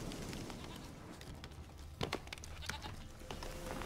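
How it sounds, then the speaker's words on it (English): A goat bleats in The Witcher 3 video game, a couple of short bleats heard amid a dense bed of game ambience and other noises. "Yeah, I can hear the goat."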